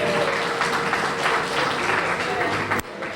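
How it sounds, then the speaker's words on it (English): Sustained applause fills a donors appreciation banquet hall, a broad continuous wash of many hands clapping at full volume, with some crowd murmur under it before it cuts off sharply near the end. "Give yourselves a round of applause."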